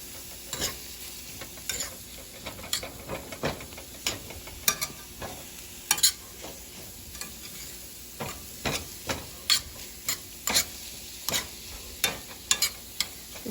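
Butter heating in a pan for a chicken and cauliflower dinner, with a soft sizzle under a series of irregular, close utensil clicks and scrapes.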